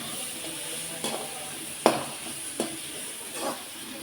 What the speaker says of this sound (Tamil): ஆனியன் போட்டுருவோம். போட்டு நல்லா வதக்கிடணும்.